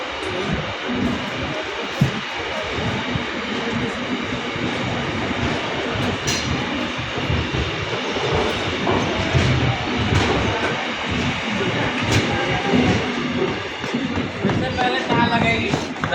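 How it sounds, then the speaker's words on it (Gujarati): A train pulls out of Marwar Junction railway station and runs on the rails, producing a loud, steady rumble and clatter of wheels that holds continuously from start to finish. "ફાઇનલી આપણી ટ્રેન નીકળી ગઈ છે મારવાડ જંકશનથી."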